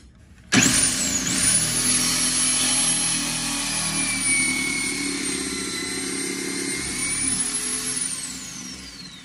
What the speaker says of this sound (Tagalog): binuksan natin yung motor